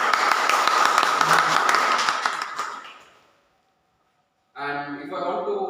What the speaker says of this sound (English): A big round of applause for Toastmasters.